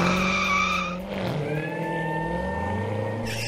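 A Corvette sports car skids with a long tire squeal and sweeping engine tone, loud and close, continuing for several seconds with a pitch bend midway and no voices.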